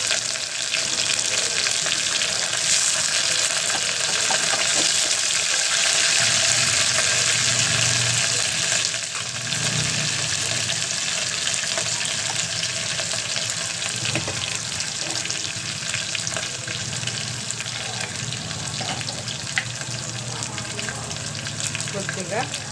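Onions, green chillies and curry leaves fry in hot oil for a tindora (ivy gourd) curry, giving a loud, steady sizzle that hisses without pause throughout.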